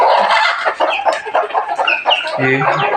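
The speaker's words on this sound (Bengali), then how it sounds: "3টা কুইচা মুরগি আছে আর কি।" Hens clucking close by in a busy, overlapping chatter, with a lower drawn-out cluck near the end.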